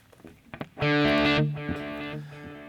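An electric guitar played through the Kemper Player's Echo Machine delay produces a few muted picks, then a loud sustained distorted chord whose repeats trail off as a softer echoed tail.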